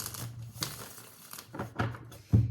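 Tarot cards being shuffled by hand, giving soft papery riffles and crinkling swishes in a few short bursts, close and fairly quiet, with no talking.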